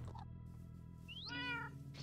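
Cats meow in the Minecraft SevTech Ages video game: a faint short mew near the start, then one clear, rising meow with rich harmonics toward the end, under a steady low background hum.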